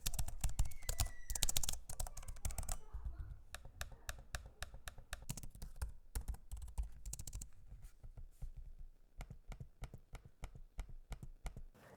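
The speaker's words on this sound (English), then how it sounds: "Here's a sample of me using both the keyboards and the trackpad so you can hear what they sound like" Rapid, close typing on a Gigabyte Aorus Master 16 or Alienware 16 Area 51 laptop keyboard clatters steadily, with lighter trackpad clicks and taps mixed in, no voices over it.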